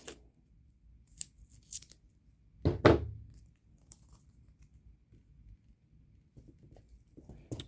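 Tape being torn and pressed onto a board for a craft frame: a single loud ripping tear near the middle, surrounded by faint scattered taps, crinkles and handling noises in an otherwise quiet room.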